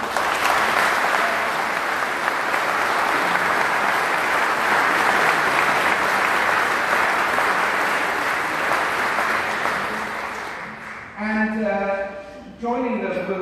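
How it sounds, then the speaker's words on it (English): A concert audience in St Elvan's church, Aberdare, gives the four choirs a long, dense round of applause that holds steady for about ten seconds before dying away as a speaker starts talking. "a big round of applause for the four choirs we'll be performing for you tonight"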